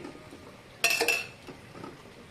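A utensil clinks and scrapes against a pan while dried salted fish curry with capsicum is stirred, a brief bright metallic burst followed by softer scraping, fairly quiet.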